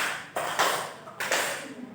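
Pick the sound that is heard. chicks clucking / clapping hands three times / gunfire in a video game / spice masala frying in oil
clapping hands three times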